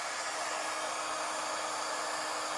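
A heat embossing tool blows hot air to melt embossing powder on a foil card, making a steady, loud, even whooshing roar like a small hair dryer that runs without a break.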